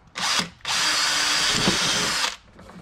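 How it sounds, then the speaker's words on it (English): Power drill with a small bit boring a pilot hole during a diesel heater install in a 14 ft Jayco Journey Outback caravan: a brief whir, a short pause, then a loud, steady whine of nearly two seconds that stops abruptly. "So the first thing I'm going to do is going to use a smaller drill bit"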